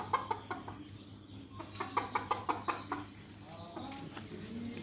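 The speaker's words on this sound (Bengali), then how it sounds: "দেশাল মুরগি।" Native desi hens kept in a village cage cluck in a quick series of close, rhythmic calls, with quieter clucks and rustling between bursts.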